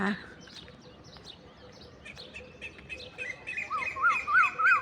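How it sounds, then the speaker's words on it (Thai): Birds and crows chirp and call over a quiet open rice-field scene in the morning, with clearer, rising tweets growing louder toward the end. "เสียงนกเสียงกา"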